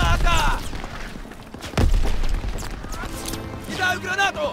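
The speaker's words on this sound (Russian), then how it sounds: "Граната!" Gunfire bursts and a heavy grenade blast echo through a World War II beach battle in Call of Duty WWII, with shouting voices between the shots.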